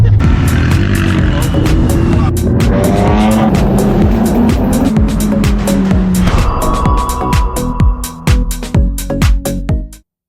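A Volkswagen Golf GTI Mk7.5 drives through a small German town near the Nürburgring, its engine loud and close with revs rising and falling, sharp clicks and squeaks throughout, fading near the end.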